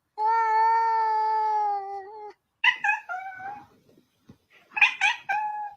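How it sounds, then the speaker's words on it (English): A cat meows in a chirpy, sing-song way: one long sustained tonal call, then two bursts of quick warbling chirps separated by brief gaps, close and clear. "Chirpy singing kitty cat."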